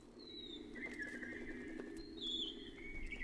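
Birdsong from the video game Kynseed: faint, thin chirps and warbling whistles drifting over a soft, steady ambient bed, a couple of calls rising and falling across the short stretch.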